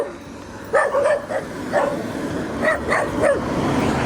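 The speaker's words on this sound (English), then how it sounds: "Set off all the local dogs." Several local dogs bark in scattered clusters of short yips, somewhat distant and outdoors, over a steady background rumble.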